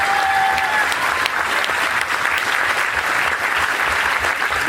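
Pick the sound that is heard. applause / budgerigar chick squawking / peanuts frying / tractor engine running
applause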